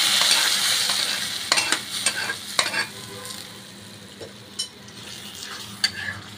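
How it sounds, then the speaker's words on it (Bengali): Sizzling tempering with onion poured into a pot of red lentils and Malabar spinach, a loud bright hiss that tapers off, followed by several sharp clinks of a spoon against the pot. "বাগাটা এখন হয়ে গিয়েছে। তো আমি এখন ঢেলে দিচ্ছি এখানে,"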